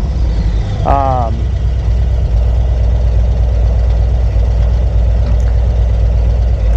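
A warmed-up Harley-Davidson Street Glide with Rinehart DBX45 exhaust idles steadily nearby with a deep low rumble, and a voice is heard briefly over it.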